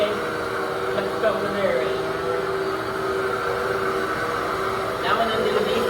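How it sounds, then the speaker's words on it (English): A Sanitaire commercial vacuum sweeper runs continuously with a steady loud whir and drone, someone talking over it throughout. "It's a commercial vacuum sweeper for the YMCA"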